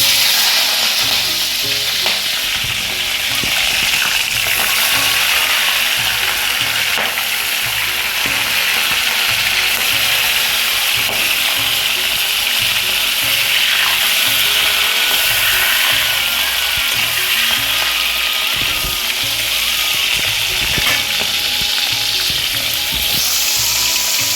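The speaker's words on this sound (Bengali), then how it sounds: "এবার এক একটি চিংড়ি মাছগুলো ভেজে নেবো" Shell-on prawns fry in a pan, giving a loud, steady, crackling sizzle that runs unbroken throughout with occasional sharper pops and no talking.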